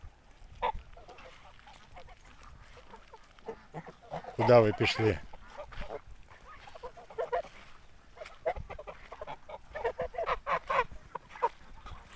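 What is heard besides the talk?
geese honking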